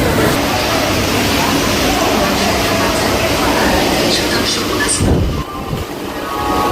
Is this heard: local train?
yes